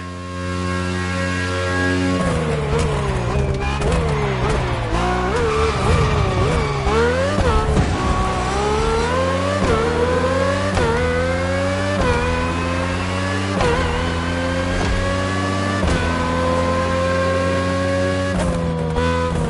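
Formula 1 race car engine in the racing game The Crew Motorfest, a loud, steady high-pitched whine rising and falling through gear shifts and revs for the whole stretch, with no voices.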